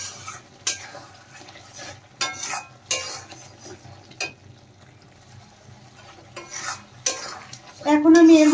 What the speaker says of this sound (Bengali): নেড়ে চেড়ে আরেকটু ভালোভাবে কষিয়ে নেব।